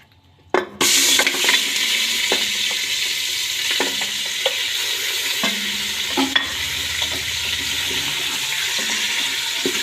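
Chicken pieces hit hot desi ghee seasoned with salt, bursting into a loud, sustained sizzle after a brief quiet start, with occasional stirring scrapes over the steady frying hiss; nobody talks.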